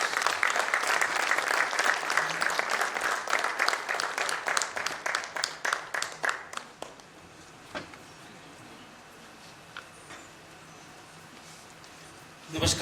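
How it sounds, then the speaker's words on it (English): Audience in a convention hall at an economic forum summit applauds the arrival of a state governor, full clapping for about six seconds that thins into scattered claps and then near quiet. "Please give a round of applause."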